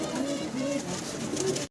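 A pair of Barhuma pigeons cooing, low soft rolling coos repeating in a steady rhythm close by, with no talk over them.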